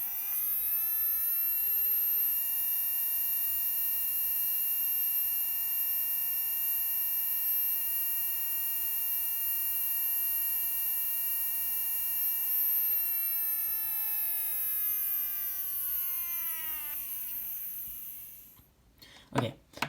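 A small electric motor whines steadily after a button press, a thin tonal hum with many harmonics that holds level, then glides rapidly upward in pitch and cuts off near the end with a brief clatter.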